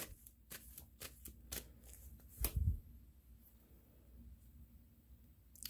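Tarot cards are shuffled for a general reading: a close run of soft riffling and slapping taps, with one louder thump partway through, then a quieter stretch.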